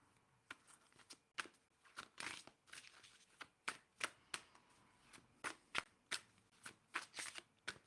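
A deck of tarot cards is shuffled in quick repeated bursts of riffling and snapping, close and fairly quiet, with short pauses between the shuffles.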